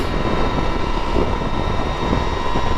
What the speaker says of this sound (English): That was a full throttle twist